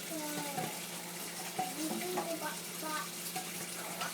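A child washes dishes in a sink filled with water, with small splashes and clinks of dishes close by under a steady background hiss, while a voice speaks briefly.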